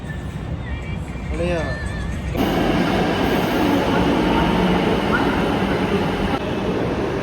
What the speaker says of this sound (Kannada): ನಮ್ಮ ಟ್ರೈನ್ ಬಂತು